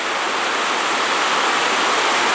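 A river in flood rushes over a weir, a loud, unbroken roar of churning water filling the whole clip at close range.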